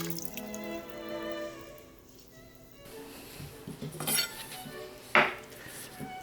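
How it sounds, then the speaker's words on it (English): Dry rice is poured into a bowl and water is added, with a rushing pour followed by clinks and drips of water against the dish, close and fairly quiet. "Let's place the rice into a bowl and cover the rice with water"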